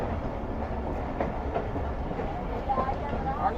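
A train rolls along traditional branch line track between Larkana and Kotri in Pakistan, a steady low rumble with faint rhythmic clickety-clack of wheels over rail joints and a background murmur of voices.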